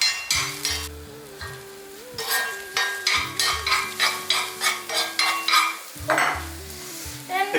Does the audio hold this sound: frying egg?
yes